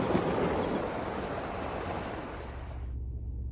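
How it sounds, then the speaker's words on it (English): Water from an irrigation well pours out steadily in a loud, continuous broadband rush, close and unbroken, until the sound cuts off abruptly near the end. "Probably hear the water running."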